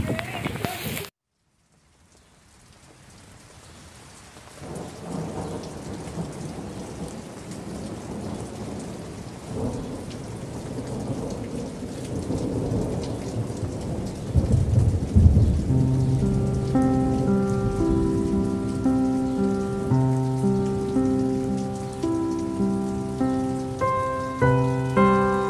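Heavy rain pours steadily onto rooftops and surfaces, with deep rolls of thunder swelling in the middle, a continuous loud storm with no voices.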